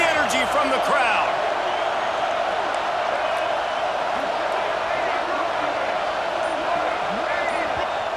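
A stadium crowd in a football video game roars steadily at a third and goal, a dense sustained cheer with scattered sharp knocks, while a commentator talks over it.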